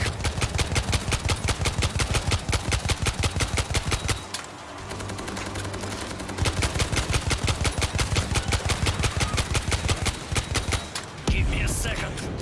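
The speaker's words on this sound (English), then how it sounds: "We're hearing gunfire from the river." Sustained rapid automatic gunfire from the river hammers in loud, evenly spaced bursts, with a brief lull midway before the shooting resumes at full intensity.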